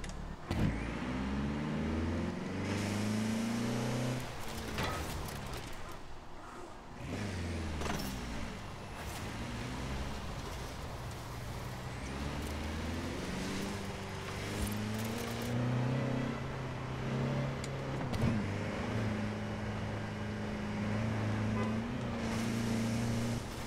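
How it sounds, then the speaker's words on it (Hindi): A 2016 Toyota Land Cruiser grinds through an off-road climb in Forza Horizon 4, its engine droning steadily with rising and falling revs over gravelly rumble throughout. "फुल क्लाइंबिंग हो रही गाड़ी की।"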